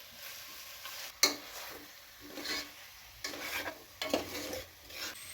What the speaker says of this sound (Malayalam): മാരിനേറ്റ് ചെയ്ത് വെച്ചിരുന്ന ചിക്കനെയും കൂടെ ഇട്ട് കൊടുക്കാവേ.